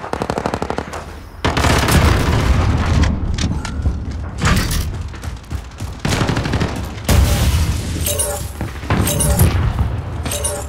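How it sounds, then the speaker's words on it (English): Loud in-game explosion from a grenade in Call of Duty: Warzone, a heavy boom amid bursts of automatic gunfire and thuds, close and intense, with brief voices between blasts. "First he threw a grenade."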